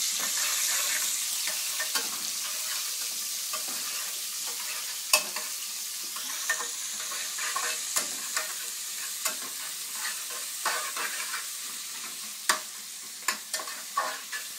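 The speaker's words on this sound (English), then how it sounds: "Quickly add your onions. Fry back your onions to it." Onions and cumin seeds sauté in a pan with a steady bright sizzle, broken by repeated sharp scrapes and taps of a spoon stirring against the pan.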